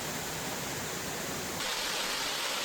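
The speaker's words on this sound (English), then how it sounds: "It's a beautiful stair-step tiered waterfall that you can see from this bridge crossing Fall Creek." Terrace Falls, a stair-step tiered waterfall on Fall Creek in Oregon, roars as a steady, dense rush of falling water heard from a bridge, constant and broadband with no voices.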